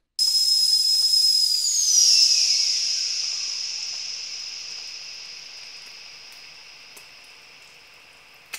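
Creepy sound-design hit: a piercing whistling, steam-like tone that sweeps and smears into a long hissing reverb tail, slowly decaying over several seconds, then a small click at the very end.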